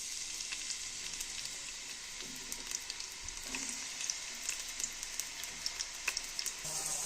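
Chopped onions sizzle and crackle in hot mustard oil in a home kitchen pan, a steady close frying hiss with scattered small pops and no talking.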